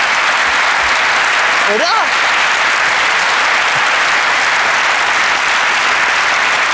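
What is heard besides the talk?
studio audience applause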